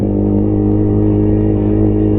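A Motorstar Z200ii motorcycle engine drones loud and close after dropping two gears on a public road, a steady rumbling hum with no speech.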